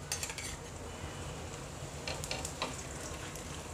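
Mughlai paratha cooks in ghee on a pan, a soft, steady sizzle with a few faint metallic clinks of a utensil, quiet and close.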